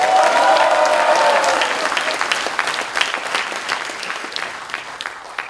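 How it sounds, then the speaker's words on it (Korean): Audience applause at a Korean political party rally, loud clapping that starts strong and slowly thins out. "여러 동지 여러분께 커다란 박수 부탁드리겠습니다."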